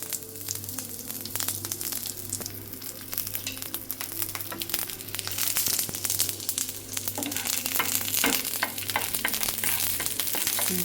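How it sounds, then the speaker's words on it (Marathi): Garlic frying in a pan for a shallow-fried suran starter, a steady bright sizzle with scattered pops and stirring scrapes, close and continuous, with no talk. "लसूण टाकते"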